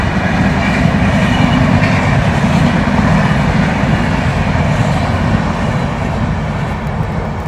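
Loud, continuous roar of a superfast express train rushing past close by on the line, a dense rumble and rattle that holds steady throughout.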